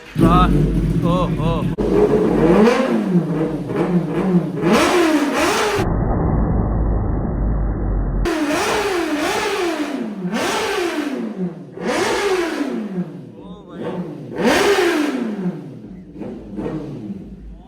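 A 2024 Kawasaki ZX-10R sport motorcycle engine revs hard again and again, loud rising and falling wails with brief pauses and one stretch of steady roar.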